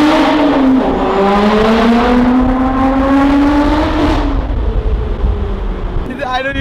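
A roof-off Lotus Exige Sport 380 accelerates flat out, its engine roaring loud and close as the pitch rises through a long pull and a gearshift, with brief talk near the end.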